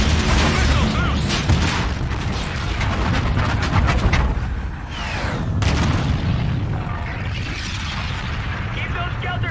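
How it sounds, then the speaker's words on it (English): Missiles launch and explode in Call of Duty: Infinite Warfare, a continuous loud roar of booming blasts and rumbling mechanical noise with sharp bursts layered over game audio and voices. "Missiles loose."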